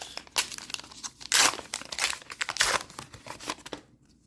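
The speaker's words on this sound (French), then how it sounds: "On va ouvrir tout de suite le booster pack." Star Wars Unlimited booster pack being torn open, a run of close, crisp crinkling and ripping bursts of foil wrapper with short pauses, ending abruptly in quiet.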